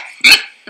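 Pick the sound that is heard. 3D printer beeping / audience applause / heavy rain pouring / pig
pig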